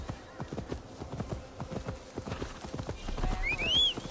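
Horse hooves clip-clop in a steady, close rhythm while riding through a forest in the game Assassin's Creed Valhalla, with a faint whinny near the end.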